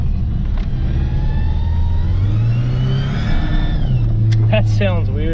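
A car engine runs as the car is driven, a loud, close low drone that rises in pitch as it revs up, eases back, then climbs again, with a voice speaking over it.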